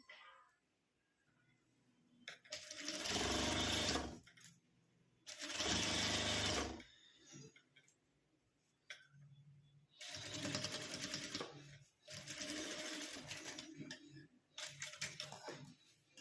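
Sewing machine stitching a zipper onto a fabric pouch, four loud bursts of rapid mechanical stitching separated by short pauses, close up with no voices.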